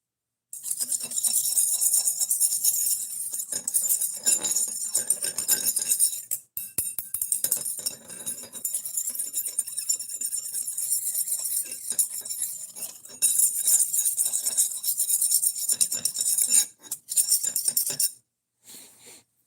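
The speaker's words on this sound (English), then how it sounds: "We're sharpening a knife." A knife being sharpened: bright metallic scraping strokes come in long, dense bursts separated by short pauses, close and fairly loud, with no voices.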